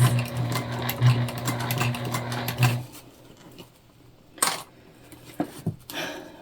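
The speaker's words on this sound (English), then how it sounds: "We're gonna hand crank through our side seams here too" A hand-cranked sewing machine stitches the side seams of a tote bag with a rapid, close mechanical clatter and a steady hum for about three seconds, then falls silent except for a few scattered clanks and handling knocks.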